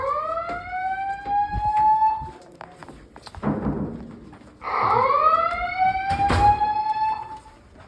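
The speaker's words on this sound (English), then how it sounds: "An alarm went off. Lights begin flashing." A hotel fire alarm sounds at 5:50 a.m., loud repeating rising electronic whoops with sharp clicks and thumps between them, filling the space continuously with no talking.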